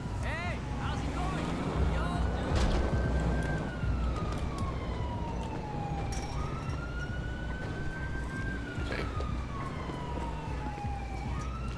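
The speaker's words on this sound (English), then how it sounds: "The ambulance is on their way." Ambulance siren in the video game GTA V, wailing in long slow rising and falling sweeps as it arrives, mixed with game ambience and background noise; a voice talks at times.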